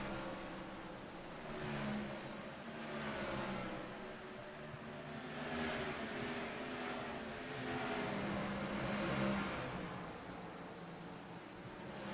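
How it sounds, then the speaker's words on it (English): A race car engine at Dover pulls out of a turn, a steady distant roar rising and falling in pitch as it accelerates, fairly faint amid track ambience. "Lets the car set and settle into the turn, back on the power and back across the start finish line."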